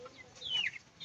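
General Shamo chicken giving a short, fairly close cluck in a quiet setting, a single brief call.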